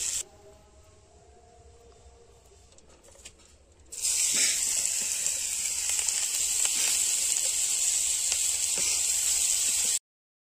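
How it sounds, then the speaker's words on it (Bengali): Potatoes for a meat curry fry in hot oil at a home feast, a faint hiss at first that jumps to a loud, steady close sizzle partway through before cutting off. "এদিকে মাংসের আলু ভাজছে"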